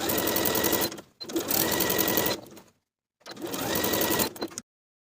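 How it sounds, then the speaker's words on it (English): A sewing machine edge stitching close to the inner fold of a blouse hem, running loud and steady in two long bursts with a short pause between them and silence at the end. "we're going to edge stitch close to the upper inner fold all the way around"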